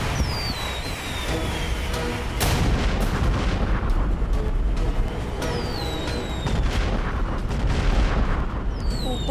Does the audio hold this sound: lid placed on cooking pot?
no